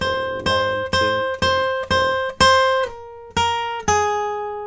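An acoustic guitar plucks the opening line of a song as a slow run of single notes and small chords, each picked cleanly at a steady pace and left ringing, with nothing else playing.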